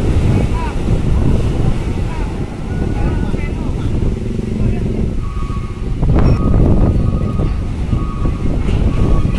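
Strong wind and surging sea waves wash steadily across an open-sea pier in rough weather, the loud roar continuous throughout, with a brief voice heard faintly under the noise.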